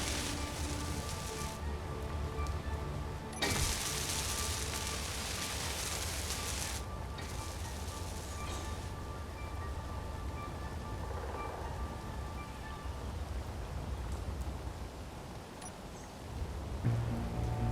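Steady rain pattering in a video game, a continuous wash of falling drops at moderate level with bursts of heavier downpour, mixed with faint game ambience and no talking.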